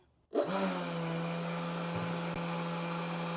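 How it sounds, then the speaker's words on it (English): An old electric motor in an E-flite F-15 RC jet, fitted with a replaced ESC, spins up abruptly and runs with a loud, steady droning whine and a rough, noisy character close to the listener. "I just want to show you what it sounds like with the old motor in it before we take anything out"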